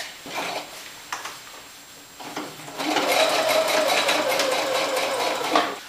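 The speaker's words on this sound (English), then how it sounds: "I'm going to choose a zigzag stitch and then sew right over the center line here." A sewing machine runs a zigzag stitch along a center line while tailoring a sportcoat collar, starting after a few quiet seconds with soft handling clicks, then a steady, close, loud mechanical whir that continues to the end.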